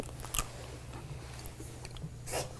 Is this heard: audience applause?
no